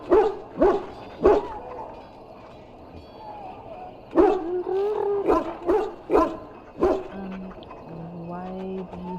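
War hounds in the video game Dragon Age: Origins bark in a series of sharp, loud woofs spaced irregularly, some closely bunched, with a few whimpering yips and a voice speaking between them.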